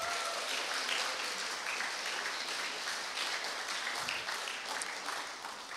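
A church congregation claps in welcome, a dense, even wash of applause that holds steady for several seconds and tapers slightly at the end.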